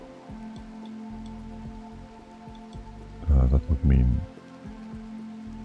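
Steady rain patters in the video game RimWorld, a soft continuous wash beneath sustained musical tones, with someone briefly speaking over it midway.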